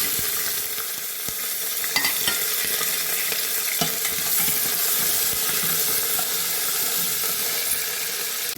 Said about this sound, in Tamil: இப்போ வெங்காயமும் கருவேப்பிலையும் இதில் சேர்த்துக்கலாம்.